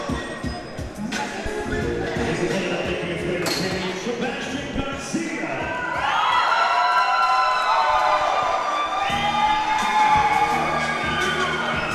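An amateur cage fighting crowd cheers a fighter's entrance. Mixed shouting and noise swell into a loud, sustained roar about halfway through, with commentators' voices faintly under it.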